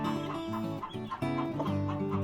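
A mother hen in a backyard chicken coop clucks steadily and close, a dense, continuous stream of throaty calls with no talk over it.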